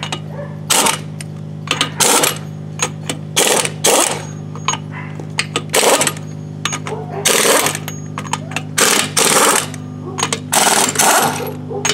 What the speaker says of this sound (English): presumably they're loose enough that my air impact wrench will take them off as well